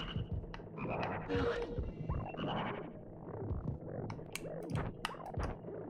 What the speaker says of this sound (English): Frog moment.